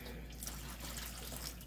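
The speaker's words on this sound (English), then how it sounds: "I put probably 2 cups of water in this bin that we were using" Water pours steadily into a plastic bin for hand-dyeing yarn, a continuous splashing stream with no voices, close and moderately loud throughout.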